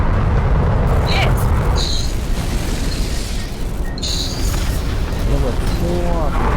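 Explosions and aircraft action in the jet combat video game Sky Combat, a sustained rumbling blast under excited talk, with brief beeping alert tones over it.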